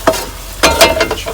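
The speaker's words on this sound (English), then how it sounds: "So good and stir it up, break all the yolks, incorporate everything really well." Eggs are stirred in a small pan with the yolks being broken, giving a few quick scraping, sloshing strokes close up with a soft sizzle between them.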